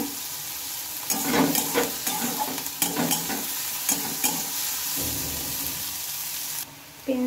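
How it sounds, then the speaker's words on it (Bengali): Onions fry in a pan with a steady sizzle while a spatula stirs them in scraping, clattering bursts, close and clear with no talking. "পেঁয়াজটা বেশ ভালোভাবে ভেজে নিয়েছি।"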